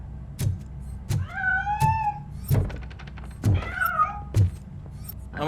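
A cat meowing in the game Robocop: Rogue City, two clear, drawn-out meows with wavering pitch, set among repeated heavy thuds and clanks against a low ambient hum.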